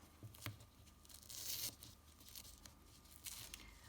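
Adhesive tape peels away from a knitted border, giving a few brief tearing rips and soft crinkles, one longer rip in the middle, close and quiet with no talk.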